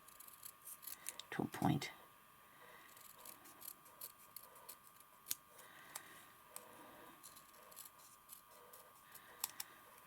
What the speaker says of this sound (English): I need to cut this bit right here